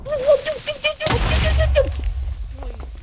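A loud booming blast erupts from a video game, rumbling and decaying after a quick series of beeping tones.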